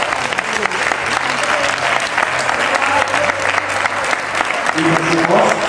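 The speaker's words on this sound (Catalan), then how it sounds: "de la qual vos demane un gran aplaudiment per a la nostra primera capitana" A festival lunch crowd in Alzira applauds the first captain of the festivities, with dense, sustained clapping that runs the whole time at close range while a voice briefly talks over it near the end.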